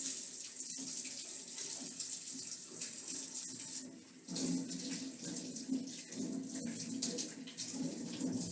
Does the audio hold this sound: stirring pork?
no